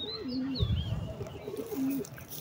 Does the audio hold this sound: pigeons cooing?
yes